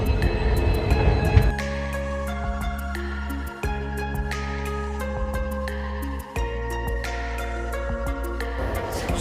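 The Farakka Express pulls out of Shahganj Junction, a loud locomotive horn sounding in long sustained blasts with brief breaks over the rumble of the train, close and without talk.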